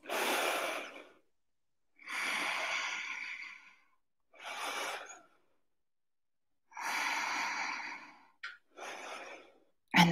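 Slow, deep breaths during a shoulder-tension yoga practice, with long audible inhales and exhales separated by quiet pauses, close and clear with no talking.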